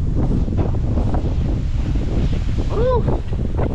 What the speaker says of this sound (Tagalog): Lakas na hangin, no?